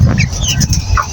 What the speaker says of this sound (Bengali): এগুলো মুরগি।